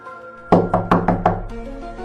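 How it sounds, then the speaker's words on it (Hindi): Someone pounds on a door with five loud, sharp bangs in quick succession, followed by a low ringing tail. "दरवाजा पिटा"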